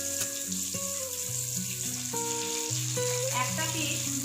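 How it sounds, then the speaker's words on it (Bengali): Tilapia fish frying in hot oil, a steady soft sizzle running under quiet background music, with no clear talk. "তাই আমি মাছ দুটো আলাদা আলাদা করে ভেজে নেব"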